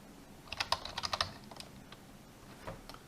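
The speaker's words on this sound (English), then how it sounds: "So let me try to type degree." Quick bursts of typing on a computer keyboard, a cluster of close, crisp key clicks followed by a few scattered taps in a quiet room.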